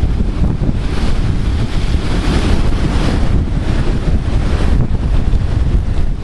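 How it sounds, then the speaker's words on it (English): Powerful ocean waves crash continuously onto a Maine shore in a strong easterly wind, a loud, dense roar with heavy wind buffeting the microphone throughout. "see how powerful these waves are."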